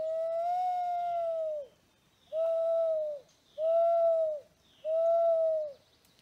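A mourning dove's call is imitated by blowing into cupped hands, four smooth hollow coos in a slow steady rhythm, close and clear with short pauses between them.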